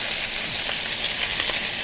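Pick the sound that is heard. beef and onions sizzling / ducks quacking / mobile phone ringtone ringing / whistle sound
beef and onions sizzling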